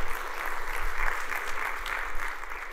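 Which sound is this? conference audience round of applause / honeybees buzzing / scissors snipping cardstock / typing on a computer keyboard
conference audience round of applause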